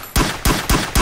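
A blaster in the virtual-reality game GMOD VR fires four loud, close shots in quick, steady succession, each a hard punchy blast with a short ringing tail.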